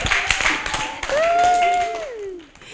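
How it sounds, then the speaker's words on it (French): A short burst of clapping from a crowd, followed by a sustained, wavering whistle-like tone that fades out near the end. "On applaudit bien fort encore Florian."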